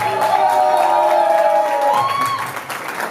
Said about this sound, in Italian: Vorrei gli faceste un applauso da parte nostra, ma di quelli che meritano però